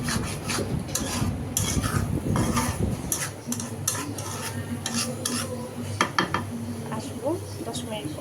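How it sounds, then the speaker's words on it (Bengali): Fish roe mixture is stirred in a bowl, with repeated close scraping and clinking of a utensil against the bowl and a quieter, steadier patch midway, while a voice speaks briefly. "দিয়ে ভালো করে নাড়তে হবে"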